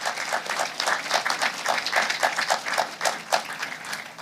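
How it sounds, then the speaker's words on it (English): Audience giving a hearty round of clapping for newly admitted advocates at a Bar admission ceremony in Kenya; dense, steady applause from a large crowd, fairly loud and continuous throughout. "give them a hearty clap."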